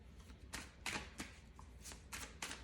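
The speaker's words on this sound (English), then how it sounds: "let's shuffle these babies out and let's lay them out" Tarot cards shuffled up close in a handful of quick, papery riffling bursts separated by brief pauses, with no voices.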